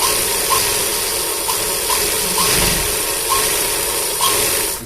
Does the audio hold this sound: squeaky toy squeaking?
no